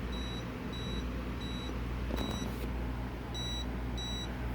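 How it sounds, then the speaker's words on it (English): Short, high electronic beeps from an aromatherapy diffuser's clock repeat at an even pace as the hour is set, six in a row, with a brief break and a faint click partway through, over a low hum. "Hear it beep as it goes?"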